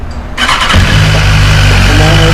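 A 2017 BMW S1000RR sport motorcycle engine starts: a brief starter whir, then the engine catches and settles into a loud, steady idle close by.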